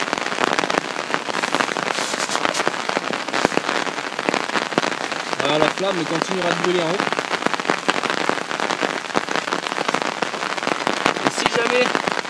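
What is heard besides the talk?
rain falling around a Kelly Kettle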